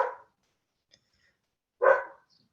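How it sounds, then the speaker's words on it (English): A dog barks twice at a distance, with a long quiet pause between the two sharp barks and nothing else in between. "We've got a dog chiming in here from next door."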